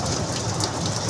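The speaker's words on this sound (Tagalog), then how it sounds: "Tuloy-tuloy ang ulan." Steady, continuous rain during a rainy Sunday, falling hard and dense as an even wash of noise with no voices.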